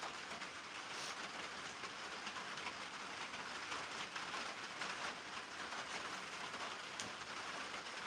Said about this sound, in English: It's not raining hard. It's just this metal roof. Believe it or not, that's just sprinkling.